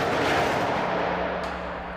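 A crash-test seatbelt sled stops with a dull, heavy thud, a single low boom that fades into a lingering rumble with no voices over it.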